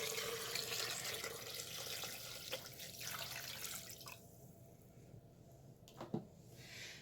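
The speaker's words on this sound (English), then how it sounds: "Now what you want to do is cover it in 4 cups of water." Four cups of water pour into a blender over ginger, a soft steady splashing that thins out partway through, followed by a few faint drips and a light knock, quiet and close, with no talking.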